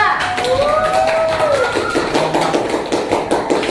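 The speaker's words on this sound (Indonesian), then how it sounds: "Tepuk tangan untuk kelompok 2." Classroom applause for a student group: many hands clapping in a brisk, continuous patter, fairly close and loud, with a voice and some squeaky tones drifting over the top.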